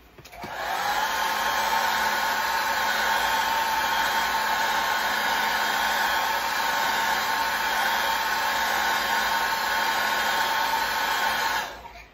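A hair dryer runs steadily for about eleven seconds while heat-setting acrylic paint on a craft piece, switching on with a sharp start and cutting off abruptly, loud and close with no talk.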